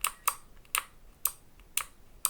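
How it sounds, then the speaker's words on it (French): Five or six distinct, sharp clicks from a mechanical keyboard fitted with clicky Pink switches, pressed one at a time at a slow, even pace, close and bright against a quiet background. "j'ai aussi un Pink qui fait un bruit de cliquetis"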